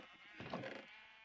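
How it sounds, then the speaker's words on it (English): Sheep in a video game give a single short bleat as they are sheared, near and clear over a quiet background hum, with no talk. "I'll harvest sheep real quick"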